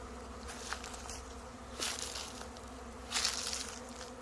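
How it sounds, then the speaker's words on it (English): A swarm of wild honey bees hums steadily around a swarm trap, their dense buzzing continuous and close. It rises slightly in a couple of louder swells as bees pass near. "But they are buzzing like crazy."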